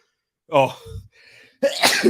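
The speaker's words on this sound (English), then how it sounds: "sorry, sneezing." A single sharp human sneeze preceded by a quick inhale, close and loud, followed by a brief gasp and a second burst, during a live football watchalong.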